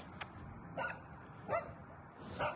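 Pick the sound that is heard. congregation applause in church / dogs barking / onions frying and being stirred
dogs barking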